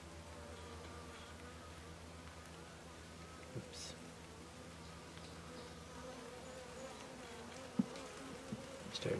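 Honeybees buzz around their hive outdoors, a faint, steady swarm drone with a few closer passes and soft ticks.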